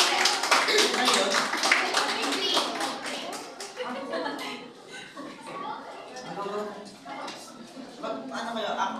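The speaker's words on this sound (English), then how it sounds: "Let's give them a round of applause so we can confident." Classmates clap for a student group about to present, loud scattered claps at first that thin into lighter patter, with voices and a chuckle mixed in throughout.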